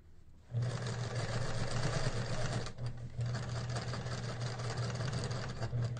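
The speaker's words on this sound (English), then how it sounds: "this is an embroidery machine too" An embroidery sewing machine stitches fabric with a steady, fast mechanical whir that runs without a break after a brief start, close and moderately quiet, with no talking.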